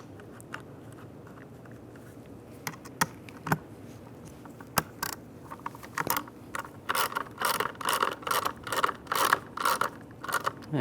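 A ratchet clicks in quick, steady bursts while bolts are snugged down on a Chevrolet Silverado steering wheel, preceded by sparse taps and clinks of tools, close up and with no talking.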